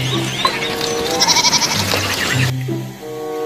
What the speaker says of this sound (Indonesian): Wah, domba si embek.